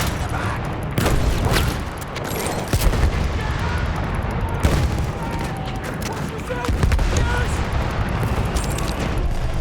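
Battlefield 1 combat with grenade explosions and gunfire: dense, continuous bursts of shots and booms with sharp cracks scattered throughout, loud and sustained, with a voice shouting over the battle.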